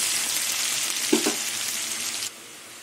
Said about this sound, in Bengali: এবার পেঁয়াজটা লাল লাল করে ভেজে নেব।